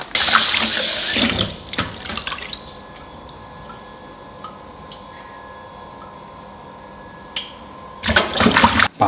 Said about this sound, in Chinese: 把肚包肉洗一下